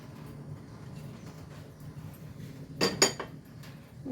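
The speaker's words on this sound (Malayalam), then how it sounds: "ഒരു ബൗളെടുത്തിട്ട് ചക്ക അതിലേക്ക് ഇട്ട് കൊടുക്കാം" Chopped jackfruit pieces tipped into a bowl for pakoda batter, giving a quick cluster of clinks and knocks near the end over a quiet kitchen background.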